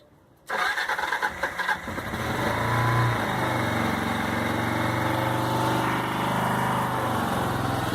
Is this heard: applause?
no